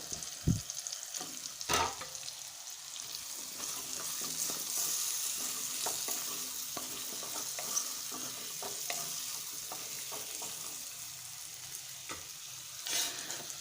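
Peas, potato and eggplant sizzling in a pan, a soft steady frying hiss with occasional clacks and scrapes of stirring, fairly quiet and close.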